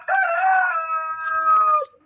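A rooster lets out a single loud, drawn-out crow nearby, a clear tonal call lasting nearly two seconds before cutting off.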